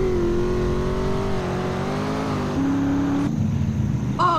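A car engine in GTA San Andreas drones loudly and steadily as the car speeds up, its pitch shifting slightly between gears, with a brief squeal-like tone near the end.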